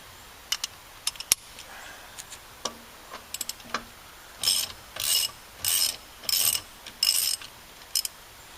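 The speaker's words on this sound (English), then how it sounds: "Let me get a ratchet wrench." Ratchet wrench working on car lug nuts: scattered clicks at first, then a run of six rapid ratcheting bursts, evenly spaced and close, with no talking.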